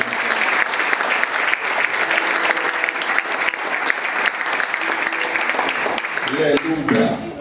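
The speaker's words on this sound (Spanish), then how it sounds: "Denle el aplauso al Señor." A church congregation applauding in praise, dense sustained clapping from many hands filling the room, with voices and music rising underneath toward the end.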